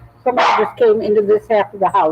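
A dog barks in a house, sharp yips and woofs close by, mixed in with a person talking over them.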